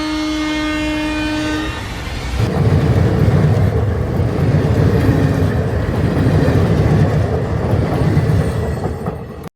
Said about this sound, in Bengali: ওই তো ট্রেন আসছে